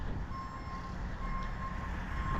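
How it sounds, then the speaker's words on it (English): A truck's reversing alarm beeps in a steady, evenly spaced series, moderately distant, over a low engine rumble as the truck backs in to hook up a trailer. "I think he's gonna back in, get the trailer hooked up"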